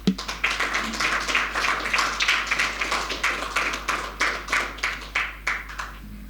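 Sparse audience clapping at a hotel professionals' annual general meeting, individual claps audible in a loose, uneven rhythm that thins toward the end, with a steady low hum underneath.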